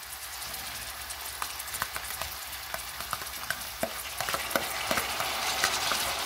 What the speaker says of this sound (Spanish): Agregamos el maíz. Agregamos nuestro sofrito.